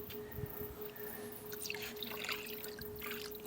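Water pouring and trickling into a rinseless car wash bucket mixed with Bilt Hamber Iconic Rinseless solution, a soft continuous splashing flow, close and fairly quiet, with a faint steady hum underneath.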